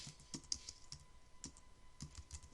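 Taps on an iPad keyboard while a tax entry is typed, with a plus sign and a zero rate keyed in. The keystrokes are quiet and irregular, come in short bursts, and no one speaks.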